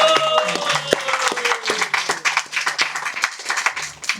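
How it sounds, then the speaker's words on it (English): A small audience at a spiritual discourse claps for Amrish Maharaj and Mataji, with sparse, uneven claps close by that soon thin out, while a faint voice murmurs beneath. "So please give a round of applause to Amrish Maharaj and Mataji."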